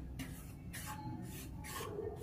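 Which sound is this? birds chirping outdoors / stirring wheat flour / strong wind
stirring wheat flour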